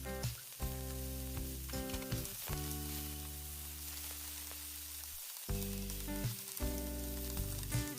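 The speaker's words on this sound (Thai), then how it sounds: "เอาลงไปกริลในกระทะนะคะ" Salmon sizzles steadily in a hot frying pan, a constant crackling hiss under louder background music with sustained tones.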